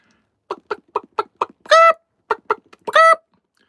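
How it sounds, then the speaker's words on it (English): A chicken clucks in a dark greenhouse, a series of sharp, evenly spaced clucks broken by two longer, drawn-out squawking calls, loud and close with no other sound. "And sometimes a chicken."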